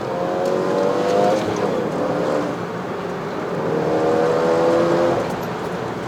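A manual car's engine revs during heel-and-toe downshifts on a downhill road in Malaysia, the pitch rising and falling in two rev swells over a steady cabin drone.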